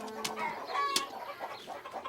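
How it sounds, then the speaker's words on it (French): Hungry chickens in a cartoon clucking and squawking in quick, overlapping bursts, one sharp cry standing out near the middle, fairly close and moderately loud. "Caillou n'aimait pas que les poules courent après lui"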